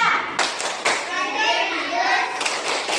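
Group of children at a school session clapping a rhythmic patterned chant together, sharp in-sync claps over loud voices calling out words, close and lively.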